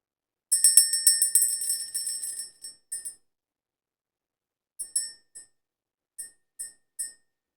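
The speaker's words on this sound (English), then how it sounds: "let's ring the bell, let's clear the energy" A small bell rings in a quick run of bright, metallic strikes that ring on briefly, then a pause and a few more single dings spaced apart, clear and close with no talk, rung to clear the energy before a spiritual reading.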